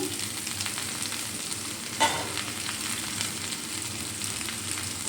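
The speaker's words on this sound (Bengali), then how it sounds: "এভাবে নেড়ে আলুর পুরটা রেডি করব" Spiced potato filling frying in a pan, a steady close sizzle broken by a sharp scrape or clink of the spoon and softer stirring strokes, with no one speaking.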